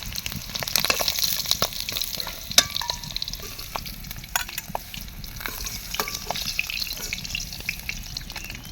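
Cumin seeds, dried chilies and chopped onion crackle in hot oil. A continuous sizzle is broken by sharp pops and spatters, with scraping stirring throughout.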